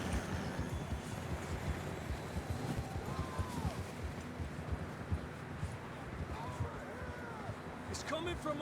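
Horse hooves clomp at a steady gallop in Red Dead Redemption 2, under continuous outdoor ambience, with occasional voices and game-like background sounds.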